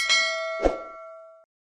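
A single bright metallic ding rings out, then a second softer strike, and the tone hangs and fades over about a second.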